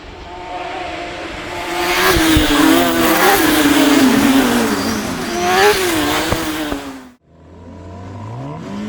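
Several racing cars roar off the line at the start of a race at Cadwell Park, engines revving hard and tyres squealing in a loud, sustained rising wash of sound that cuts off abruptly near the end.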